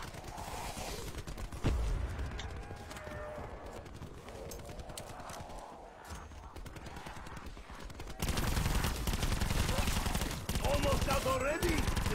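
Rapid automatic gunfire from a newly acquired weapon in Call of Duty Black Ops 4 Zombies, Blood of the Dead map, bursts of shots mixed with game effects and intensifying toward the end.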